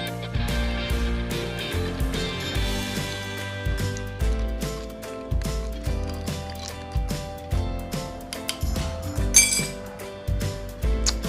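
Spoon stirring iced black coffee with cream in a glass, with rapid, bright clinks of metal and ice against the glass ringing out close and loud, continuing irregularly throughout.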